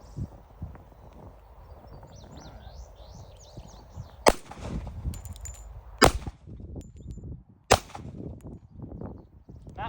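Colt 1911 pistol fired on a shooting range at 3 yards, three sharp, loud shots spaced a couple of seconds apart, with quiet background murmur and rustling between them.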